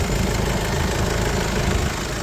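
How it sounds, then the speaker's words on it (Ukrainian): Steady crossover car engine idling under an open hood at a car market, a continuous low rumble with no talking, close and even throughout. "покажемо вам під капотом як працює двигун"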